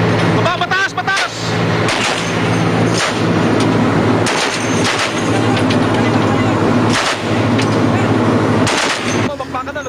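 Repeated heavy gunfire booms and bursts at sea, some rapid like automatic fire, as Philippine Navy ships exchange fire with rebels hiding in mangroves, with a low engine drone throughout and voices shouting in between.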